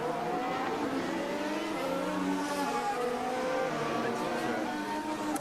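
Carlos Sainz's Formula 1 car on a fast lap at Monza during practice for the 2023 Italian Grand Prix, its high engine whine rising steadily in pitch with gear changes, sustained and fairly near.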